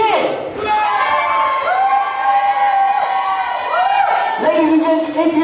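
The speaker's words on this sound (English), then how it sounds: "if you voted for Cindy, can you please give me a cheer?" Talent show audience at Southery Got Talent erupts in loud cheering, with high whoops and screams rising and falling throughout, close and sustained.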